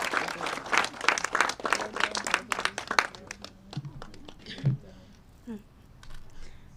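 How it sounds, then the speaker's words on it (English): Scattered audience clapping greets a young student walking to the stage at a community schools announcement, loud at first then thinning out and fading as a voice speaks. "Give her a round of applause."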